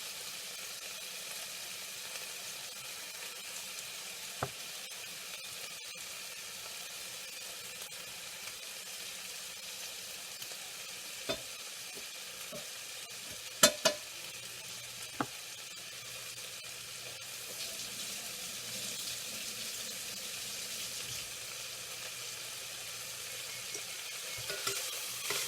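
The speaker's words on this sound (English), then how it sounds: "I'm stirring this together, and my cream cheese is going to start melting in there." Fried cabbage and cauliflower mac with cubed cream cheese is stirred in a pan, giving a steady soft sizzle with occasional scraping clicks and taps, fairly quiet and without talk.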